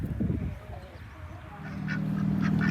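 Ducks honk and quack loudly and close by in a chicken pen, a steady run of calls that swells toward the end, with no talk.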